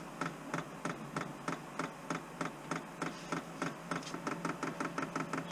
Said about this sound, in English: Now we can hear the pump moving.